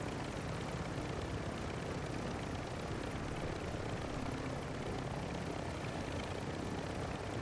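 A helicopter in Call of Duty Modern Warfare roars as a dense, steady rotor and engine wash that stays loud and unchanging throughout.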